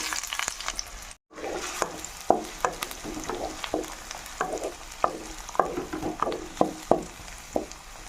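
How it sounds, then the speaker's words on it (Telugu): Chopped onion pieces frying in hot oil in a home kitchen pan, a close sizzle with crackling pops and occasional stirring scrapes, steady throughout with a brief dropout near the start. "ఆయిల్ కాగిందండి. ఉల్లిపాయ ముక్కలు వేసుకుందాం."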